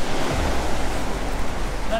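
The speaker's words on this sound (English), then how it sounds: "That's the sea." Sea surf rolls onto the beach at Worthing in a continuous, broad wash of noise mixed with wind buffeting the microphone, close and steady, with a brief faint voice near the end.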